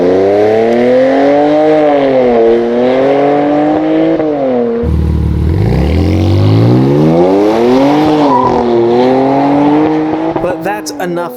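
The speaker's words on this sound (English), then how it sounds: "here's a couple sounds of the exhaust without the Army-Trix downpipes" A Nissan Z sports car exhaust, without downpipes, revs repeatedly, engine pitch rising and falling in loud sweeps, with a deep burbling drop midway and crackles at the end.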